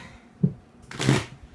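A short, quiet flutter of tarot cards being shuffled, a small tap followed by a brief riffle, close up.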